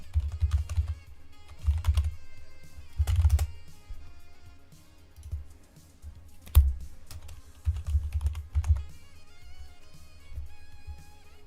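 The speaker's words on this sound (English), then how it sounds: "Sometimes my brain gets ahead of my typing." Typing on a computer keyboard, with quick bursts of clicking keystrokes separated by short pauses, close and fairly loud with no talk.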